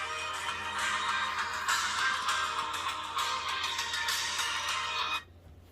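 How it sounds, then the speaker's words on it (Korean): A phone ringtone sounds in a workshop where a cordless vacuum battery pack is being repaired, a bright, steady electronic melody that is close and fairly loud, then stops abruptly near the end, with no talking. "또 제가 벨소리를 또 켜놨었네요"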